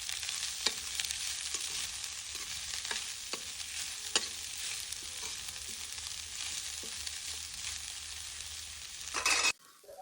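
Chopped spring onion leaves cook quietly in a pan under a soft, even sizzle, with occasional light taps of stirring; the hiss cuts off abruptly near the end.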